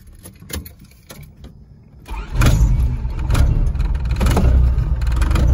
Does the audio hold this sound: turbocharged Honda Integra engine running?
yes